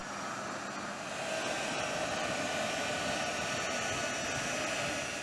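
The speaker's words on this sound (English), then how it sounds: "The C-17 Globemaster undertakes the mission of moving the rolling White House and its peripherals to any global location" A C-17 Globemaster military transport aircraft roars with a steady, broad jet-engine rush that holds evenly throughout, with no voices over it.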